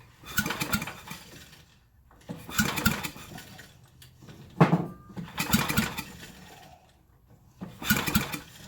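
A 1974 Briggs and Stratton 8hp engine, bolted down, is pull-started in four loud, close rope yanks spaced about two seconds apart, each a rasping burst of cranking, with a brief sharp clank in between.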